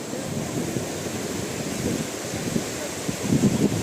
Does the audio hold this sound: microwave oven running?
no